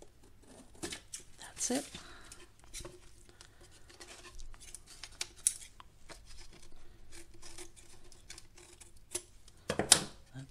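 Scissors cutting decoupage paper at close range, a series of quick snips and tearing crackles, with a person speaking briefly in between.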